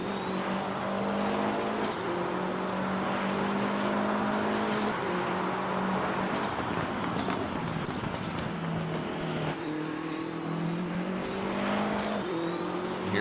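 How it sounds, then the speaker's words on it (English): A BMW race car on the Mount Panorama circuit accelerates away with a steady turbo whine over its engine drone, while another car, a Corvette, follows close behind, loud and continuous throughout. "Hear a little bit of turbo whine of that BMW as he slowly escapes Jared Svetek's assault"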